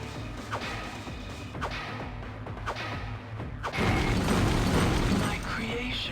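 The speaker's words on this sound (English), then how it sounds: "Maybe I can break it with my wrench." Metal wrench blows on an object in the sci-fi game System Shock 2, a few sharp clanking hits standing out over a constant mechanical background hum, then a louder burst of crashing noise.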